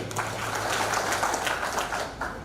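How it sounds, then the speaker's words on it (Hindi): An audience at an event in Mumbai claps for a speaker, a steady, dense wash of applause from many hands heard at moderate distance over a low hum, with no voices. "जोरदार तालियां उनके लिए"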